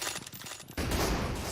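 Gunfire in a shooter video game breaks out as a dense, loud burst of rapid shots, preceded by quieter clicks and movement, with no speech.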